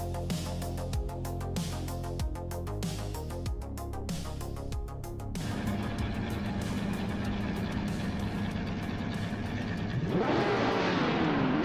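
Race car engines at the start of a race at Mugello in a racing video game, howling and revving together in a loud continuous drone that climbs in pitch near the end, with no talk.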